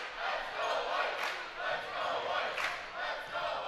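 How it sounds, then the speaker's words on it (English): A packed, loud crowd at a high school boys basketball game between McFarland and Big Foot roars and cheers continuously, swelling in a few surges and staying loud throughout. "Loud crowd here tonight, John,"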